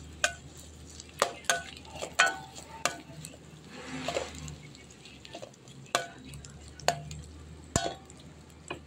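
Onion frying in a pan while being stirred, with repeated sharp clinks and scrapes of a spoon against the metal pan over a low, soft sizzle, close by and fairly quiet.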